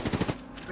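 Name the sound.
gunfire in the video game Apex Legends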